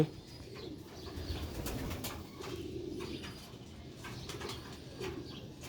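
Sialkoti rooftop pigeons coo softly in low, repeated throaty calls, with faint chirps and a wing flutter or two, close but quiet and without talk.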